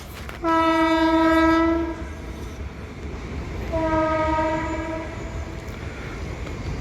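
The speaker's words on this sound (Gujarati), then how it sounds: "મસ્ત મજાની ટ્રેન નીકળી છે" A loud, close train horn blasts twice over the heavy rumble of a passing train, the second blast longer and fading.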